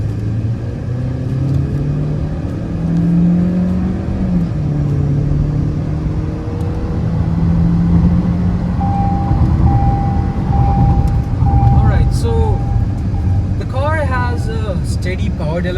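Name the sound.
Jetour X70 Plus SUV accelerating in sport mode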